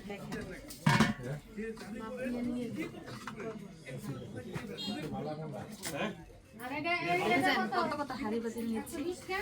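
Metal rice and curry cooking pots clatter and clank as they are picked up and handled in a home, with a sharp knock near the start and scattered dish rattles under ongoing conversation.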